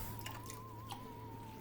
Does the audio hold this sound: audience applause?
no